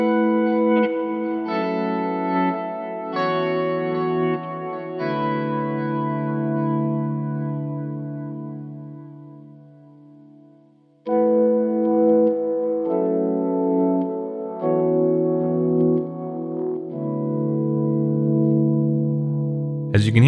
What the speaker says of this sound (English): I'll play those outer space spread voicings with the tone knob at 10 and then the tone knob at 0.